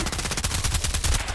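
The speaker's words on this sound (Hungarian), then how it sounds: "tetőről lövöldöznek minket" Rapid automatic gunfire rattles continuously in an online shooter game, dense and loud, as a steady burst of shots with no voices over it.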